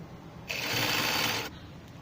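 A sewing machine stitches a shirt neckline in one steady, close burst of about a second, whirring alone against quiet room tone.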